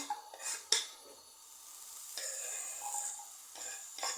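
Finely chopped pork fat sizzles quietly in a frying pan, with a few sharp clinks and scrapes of a utensil against the pan.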